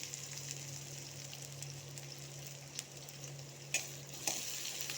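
Onion, capsicum and potato sautéing in a pan, a soft, steady sizzle with a low hum beneath and a few brief stirring knocks toward the end.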